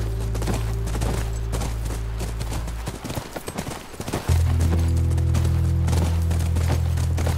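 Steady clip-clop of horse hooves with a low rumbling drone beneath, pausing briefly in the middle before resuming, in the video game The Last of Us Remastered.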